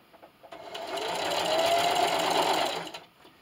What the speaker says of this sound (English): letting the machine do all the work